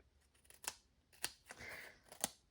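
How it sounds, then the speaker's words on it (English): Scissors snip through foam dimensional adhesive squares, cutting them in half: a few sharp, separate snips spaced about half a second apart, close and clear, with one longer rasping cut between them in a quiet room. "I always cut my dimensionals in half."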